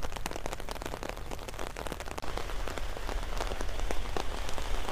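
Rain falls steadily on the roof of a palace-style shelter, a dense, close patter of drops drumming without a break from start to finish.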